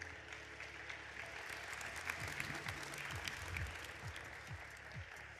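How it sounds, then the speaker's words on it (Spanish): A crowd claps steadily at an outdoor civic gathering with a volunteer brigade, the applause moderately distant and sustained for several seconds, with a faint voice underneath. "Fuerte el aplauso."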